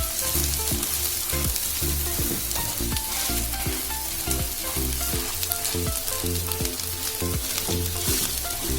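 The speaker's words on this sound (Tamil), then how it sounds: "பிரஸ் பண்ணிட்டு சிம்லியே ஒரு 2 to 3 மினிட்ஸ் வைங்க. ஏன்னா கேப்சிகம் ஆனியன் எல்லாமே வந்து ஃப்ரை ஆகிறதுக்கு வேண்டி." An egg roll with capsicum and onion fries in a pan with a loud, constant sizzle and crackle close by, plus a rhythmic repeating clatter running through it, with no talking.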